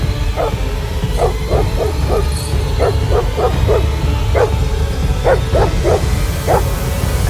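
Many street dogs barking and yelping in bursts at night, some nearer and some farther off, over a constant low rumble of background noise.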